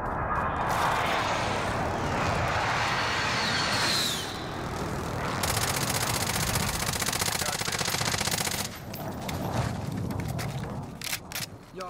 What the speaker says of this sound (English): Calling for fire on my target.